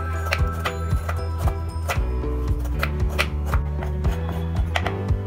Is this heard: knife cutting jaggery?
yes